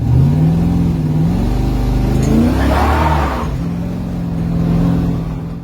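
Turbo LS-swapped Fox Body car on its first drive, engine revving and accelerating loudly up close with a rising tone, then settling back, no talk over it.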